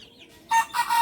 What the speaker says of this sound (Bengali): ওরা এখানে ২ জাতের মুরগি আছে